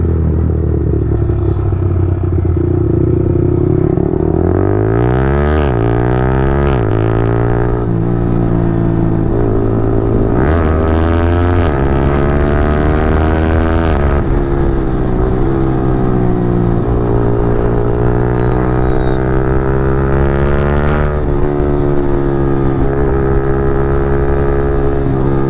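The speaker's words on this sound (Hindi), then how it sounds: "लो भाई किक शिफ्टर साउंड सुनना।" A Yamaha R15 V4 with a quickshifter and Leovince exhaust revs hard and loud, its engine note climbing through repeated rising runs with brief sharp dips at each clutchless upshift, close and continuous throughout.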